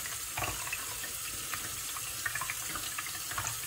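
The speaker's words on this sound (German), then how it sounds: "damit wir den Reis von Stärken befreien. Und dabei immer ein kaltes Wasser verwenden." Cold tap water runs steadily over sushi rice being rinsed in a sink, a continuous close splashing wash with no talk.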